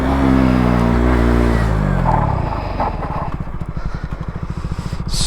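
A 125cc four-stroke motorcycle engine revs hard during a wheelie, loud and close, its pitch dropping before it settles into a lower, pulsing idle.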